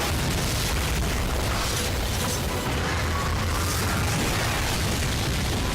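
Dense, continuous rumbling blasts from the video game Lost Planet, with booming bursts that overlap without pause, loud and heavy, with no voices.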